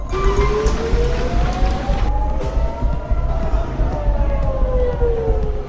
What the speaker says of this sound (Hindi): पूरे इजराइल में हवाई हमलों के सायरन बजने लगे और लोगों में भगदड़ मच गई।